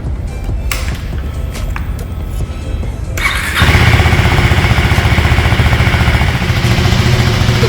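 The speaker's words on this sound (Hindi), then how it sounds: "चलिए अब मैं इसको स्टार्ट करके दिखाती हूँ और आपको सुनाती हूँ कि कैसी आवाज़ इंजन से ये प्रोड्यूस करेगी।" A 2024 KTM 390 Duke motorcycle engine cranks and fires up, then settles into a loud, steady, throaty idle that rumbles on close by.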